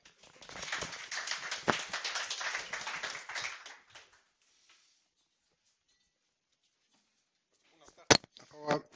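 Audience clapping for a speaker at a lecture on fishing fees, a few seconds of steady applause that stops into near silence, followed by a couple of close knocks and a voice.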